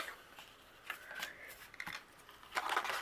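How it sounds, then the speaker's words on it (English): Pumpkin shapes die cut from pattern paper, heard as a few faint, close papery crunches and rustles, the last one the strongest. "I'm going to die cut it out a few times here"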